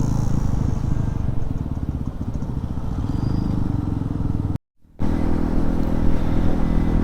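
A KTM Adventure motorcycle engine drones steadily while riding over a potholed road toward Shree Malanggad, with a brief silent break partway through.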